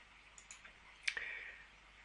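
A few light, faint mouse clicks on a software button in an office program, soft taps followed by a brighter single click, isolated in a quiet room.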